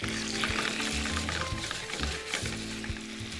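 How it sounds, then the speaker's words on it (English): Four pints of cherry tomatoes sizzling hard in a hot pan, a steady dense crackle and hiss with occasional stirring scrapes, close and loud with no talk. "And 4 pints of cherry tomatoes. And these are just gonna cook together for about 5 to 7 minutes while I cook the pasta."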